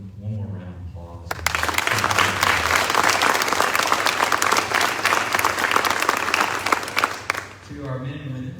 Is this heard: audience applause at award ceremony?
yes